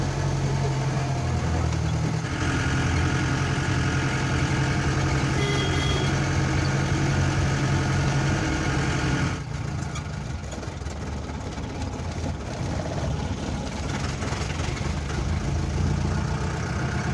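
A safari jeep engine hums steadily while driving near Kanthalloor, Kerala, a close mid-pitched drone that shifts in tone partway through.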